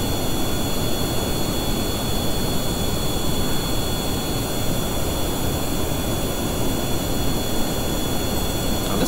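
A jet engine in Kerbal Space Program runs at 75% throttle, giving a steady, loud, unbroken roar that holds level for the whole stretch with no voices.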